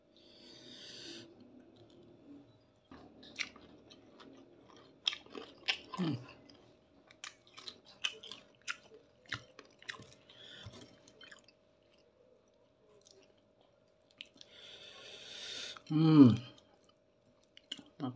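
Crunchy ayam geprek fried chicken being chewed close up, scattered crisp bites and squishy mouth sounds spread across the stretch, with a louder burst near the end and occasional talk.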